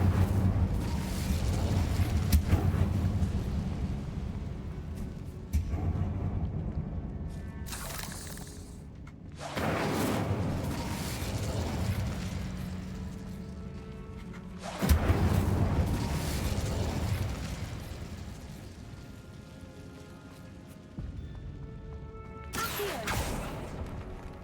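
An Incendio fire spell cast in Hogwarts Legacy comes as a run of loud crackling, crashing bursts, each swelling and fading, about four or five in a row with short quiet breaks between them.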